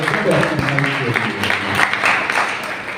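Applause from an audience at an annual function and rewards event, a dense wash of clapping that carries on steadily and merges with crowd noise and talk.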